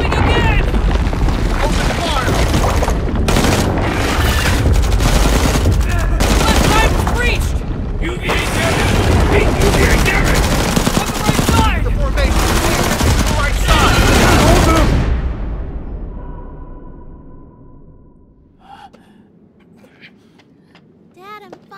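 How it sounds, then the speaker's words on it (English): Heavy automatic gunfire and booming blasts in a sci-fi action film, a loud dense barrage for about fifteen seconds that then cuts off and fades into quiet rumble with faint distant sounds. "Open fire!"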